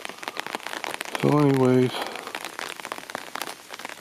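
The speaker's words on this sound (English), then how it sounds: "it is raining" Rain falls steadily on surfaces in a winter garden, a close, continuous patter of drops, while someone speaks briefly over it.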